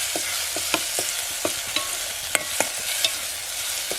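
Spices crackle and sizzle in hot oil for tempering for a Konkan-style green field bean and potato curry, under a steady hiss, punctuated by sharp metallic clicks of a spoon stirring the pan.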